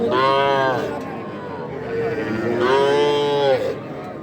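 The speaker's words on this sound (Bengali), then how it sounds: "পাশে আরেকটা গরু রয়েছে, আমরা একটু এই গরুটার ব্যাপারে জানানোর চেষ্টা করি।" Cattle at Aftabganj livestock market in Bangladesh, with two long, loud moos close by, one at the start and another near the end, over a steady crowded market din.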